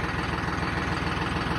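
A tractor engine runs steadily at idle, a continuous, loud, pulsing rumble throughout the short stretch with no voices.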